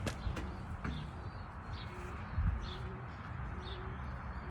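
Racing pigeons coo softly in a loft, with a few low coos and faint chirps over a quiet, rustling background.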